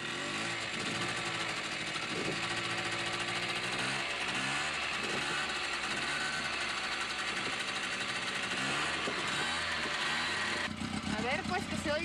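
Racing motorcycle engines at the Pachuca racetrack run loud and continuous, with revving pitch sweeps rising and falling through the whole stretch under a constant roar.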